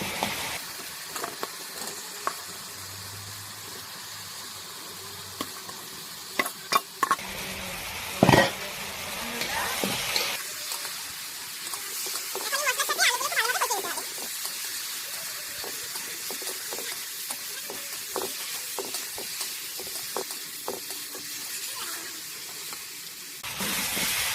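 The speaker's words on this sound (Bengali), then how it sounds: "এখন এর মধ্যে ভেজে রাখা আলুগুলো দিয়ে দেবে" Fried potatoes are tossed in spiced oil in a pan: a steady, moderate sizzle with scattered clicks and scrapes from a stirring utensil, and a brief louder hissing surge midway.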